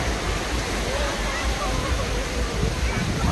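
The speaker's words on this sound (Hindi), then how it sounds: "देखो ये लहर आ रही है" A steady, loud wash of surf roars continuously at close range, waves rushing and churning without pause.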